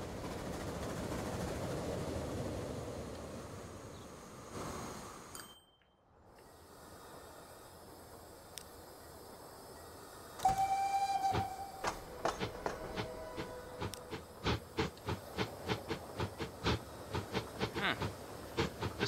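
A train in Transport Fever 2 runs along the line with a soft hiss, then a faster rhythmic clatter of wheels over rail joints in regular clicks.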